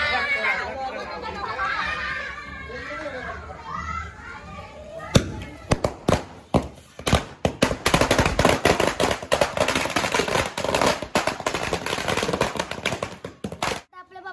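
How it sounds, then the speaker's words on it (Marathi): A string of firecrackers goes off during a Ganpati immersion procession, loud rapid cracks bursting in a dense, uneven run for several seconds after a crowd chatters and calls out. "चला आता आपण फटाके लावूया"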